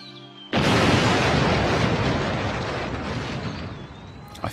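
A powerful bomb explosion tears through a conference room with a sudden loud blast, followed by a long rumbling roar that slowly fades over several seconds, with no voices.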